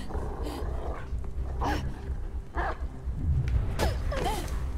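Low, rumbling growls from a dog in the video game Beyond Two Souls rise and fall over several seconds, mixed with short snarls and yips against steady game background noise.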